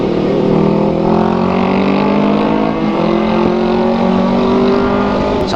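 Kawasaki ZX-4RR motorcycle engine in a tunnel, a loud, sustained high-revving drone with strong harmonics echoing throughout, steady and close with no talk.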